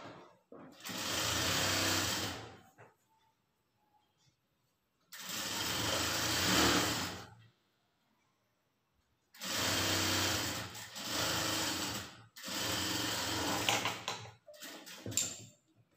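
A sewing machine runs in bursts while stitching a folded blouse hem, a steady buzzing whir lasting a couple of seconds at a time, separated by quiet pauses, with a quick flurry of shorter runs near the end.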